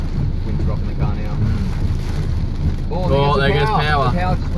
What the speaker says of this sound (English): Wind's rocking the car now.